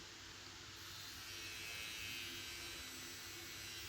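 A Kemei KM-6630 cordless all-in-one trimmer runs with a steady, fairly quiet electric buzz, held close and unchanging for a few seconds.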